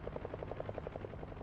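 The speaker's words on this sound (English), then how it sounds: "You're in a chopper, aren't you?" A helicopter flies in a video game, its rotor beating in a fast, even, steady chop, moderately loud and continuous with no talk over it.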